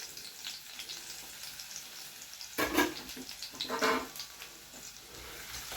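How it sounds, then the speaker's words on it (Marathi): Crushed garlic hits hot oil for a home-style green prawn curry. A faint background sizzle jumps into a louder spitting burst partway through, then settles back to a soft crackle. "लसूण आपण छान परतून घेतलेला आहे."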